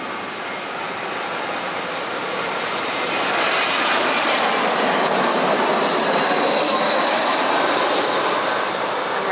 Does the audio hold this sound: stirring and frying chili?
no